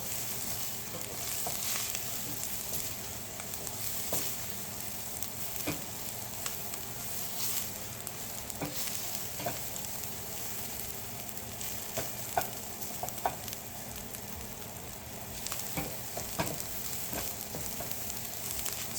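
A wooden spoon stirs through a stainless steel pot of garlic butter noodles, giving soft continuous scraping and swishing over a steady sizzle, with no metal clatter, close-up and wordless for the whole stretch.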